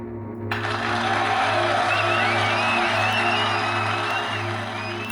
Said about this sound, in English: That applause isn't for me, it's for you.